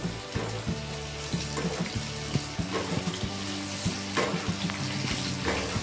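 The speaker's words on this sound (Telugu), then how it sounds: "ఇలా ఆయిల్లో ఎండుమిర్చిని వేసుకోవాలి." Dried red chillies frying in already hot oil, a close crackling sizzle with intermittent stirring clinks and scrapes against the pan throughout.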